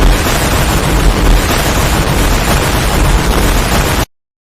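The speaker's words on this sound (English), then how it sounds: "It's been 5 million years since the explosion" A loud, sustained explosion sound effect representing the Crab Nebula supernova, a dense roaring rumble that holds steady for about four seconds and then cuts off abruptly into silence.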